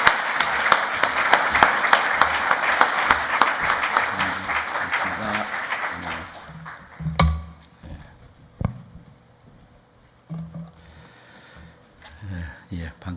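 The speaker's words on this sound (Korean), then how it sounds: "목사님 나오실 때 크게 고맙습니다 하는 뜻으로 박수하시면 좋겠습니다" Audience applause at a church conference welcoming a pastor to speak, brisk dense clapping for about six seconds that fades out, followed by quieter room sounds, breaths and a few knocks as speech begins.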